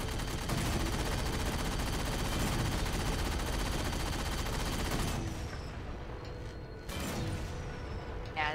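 Heavy sustained gunfire from the big gun in Halo 4, a dense continuous roar of rapid shots for about five seconds, then quieter mechanical whirring and creaking as the weapon cools, with a short burst of fire near the end.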